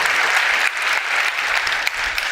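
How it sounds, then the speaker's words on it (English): A crowd at an awards pitch event at a congress gives a big round of applause, steady, dense and loud, continuous clapping throughout with no talking. "Big round of applause."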